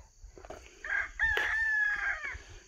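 A rooster crows nearby, one drawn-out call over a quiet outdoor background.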